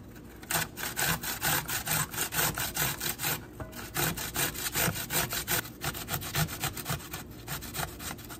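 A cucumber, skin left on, is grated by hand for tzatziki, making quick rhythmic rasping strokes, close and steady, repeating for several seconds without any talking.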